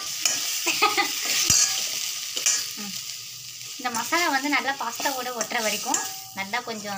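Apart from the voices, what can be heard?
masala pasta frying and stirring in a pan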